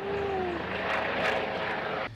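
Firefighting helicopter flying over a wildfire to drop water on hard-to-reach hotspots, a loud, steady engine and rotor roar with a falling whine early on, close and continuous before cutting off abruptly.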